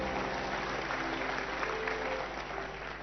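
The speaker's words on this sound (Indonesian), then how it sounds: "Kasih tepuk tangan buat Allah." Church congregation in a packed service clapping together, a dense continuous wash of applause filling the hall for a few seconds.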